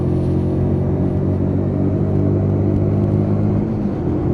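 Lexmoto Michigan motorcycle cruising in fifth gear after a roundabout on new tyres, its engine a steady, loud, continuous low drone with harmonic hum and wind rush, no talk.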